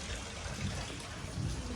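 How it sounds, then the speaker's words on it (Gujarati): Light rain falls steadily over a farm field where a groundnut crop has sprouted, a soft continuous hiss of drops close by with no voices. "વરસાદી માહોલ આપણે માંડવી હારી ઉગી ગઈ એના ઉપર આવ્યો એટલે જોઈએ એવું વરસાદ આવી ગયો"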